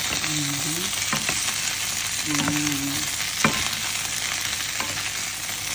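Fish frying in a pan, a steady loud sizzle of hot oil running throughout with a few stirring clinks and brief tonal squeaks over it.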